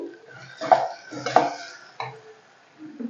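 A metal lid clanks onto a cooking pot of onions, giving a few distinct clatters and scrapes of metal on metal, fairly close and moderately loud with quiet gaps between.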